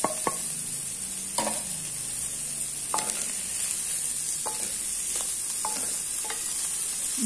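A spoon stirs crushed cumin, black pepper and turmeric into a cooking mixture for bread rolls, giving a series of sharp taps and scrapes against the pan over a low, continuous sizzle.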